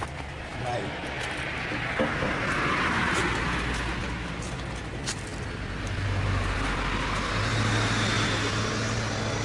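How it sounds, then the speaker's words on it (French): An agricultural vehicle drives along a road in Japan with a steady engine rumble and road noise, loud and close throughout, while people talk over it. "Waouh, la voiture. Oh l'engin. Qu'est-ce que c'est que ce truc? Un engin agricole."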